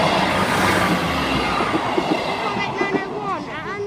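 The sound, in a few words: train 158901 passing Beverley North level crossing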